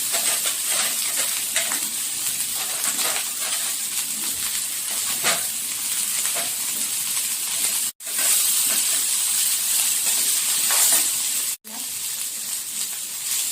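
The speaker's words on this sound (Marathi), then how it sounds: "आता कांदा, टोमॅटो, धणे घालूया। आपण जे खडे मसाले घेतले ते पण भाजून घेऊया।" Onion, tomato, coriander and whole spices dry-roasting in a pan give a steady, close sizzling hiss with faint stirring scrapes, running continuously apart from two brief cutoffs.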